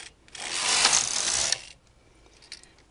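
Studio or Singer knitting machine carriage pushed across the needle bed knitting tuck stitch, a single clattering mechanical sweep lasting over a second, followed by faint clicks, close and alone.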